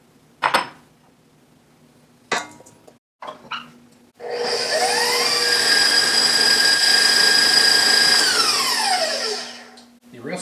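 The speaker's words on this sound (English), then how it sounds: "I'm going to start by beating together 4 eggs, a cup of butter, which has been softened to room temperature, and a cup and a half of brown sugar" An electric mixer beating eggs, softened butter and brown sugar. A few clanks and bumps come first, then the motor starts up and whirs loud and steady for about six seconds before winding down.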